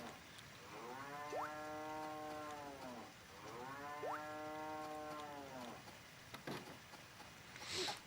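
Two long, drawn-out cow moos from the Harvest Moon DS farm game while the cattle are being milked, each lasting about two seconds with a short pause between them, loud and close, and a soft chime near the end.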